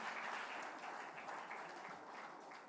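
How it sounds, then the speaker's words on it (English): Indoor audience applause at an education event, a steady wash of clapping from a crowd that holds at an even level throughout, moderately distant. "a great round of applause to go alongside"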